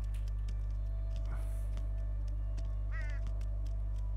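A crow caws in the Unravel video game, a short burst of harsh calls over a steady low electronic hum and faint ambient game sounds.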